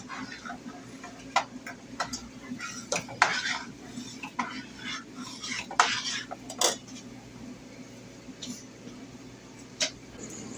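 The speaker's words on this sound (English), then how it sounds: "Now we'll scoop out the milk to make our tofu and stir it while it's heating until it almost comes to a boil." A flat-edged utensil stirs soy milk in a pan while it heats toward a boil, giving repeated scraping and clinking taps against the metal, irregular and close, over a low steady background.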